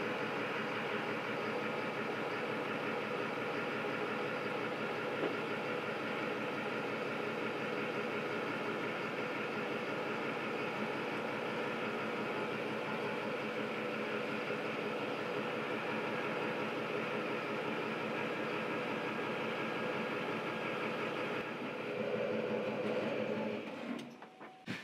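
A tow vehicle hauling a 2022 Oliver Legacy Elite camper trailer creeps forward and turns slightly left, giving a continuous, even engine and rolling rumble for the whole stretch that shifts and drops away at the very end.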